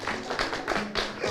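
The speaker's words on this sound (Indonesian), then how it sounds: "kita beri tepuk tangan yang meriah untuk teman-teman SMP Negeri 20 Palu" A group claps for SMP Negeri 20 Palu students at a school Quran quiz contest: brisk, fairly even claps in quick succession, with a faint voice underneath.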